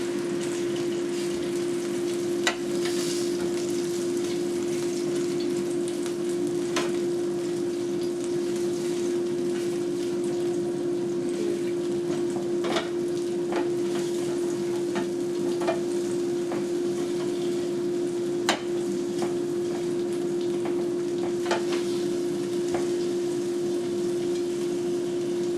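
Lemon pepper chicken wings sizzle in a Ninja Foodi grill, a steady bright frying hiss and hum running throughout, with a few faint clicks and knocks as the wings are turned.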